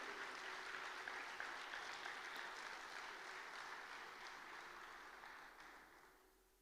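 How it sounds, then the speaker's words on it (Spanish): Church congregation applauding during a Spanish-language sermon, a broad steady wash of clapping that gradually fades out toward the end, heard at a distance with no voices over it. "le diera ese aplauso más fuerte a él"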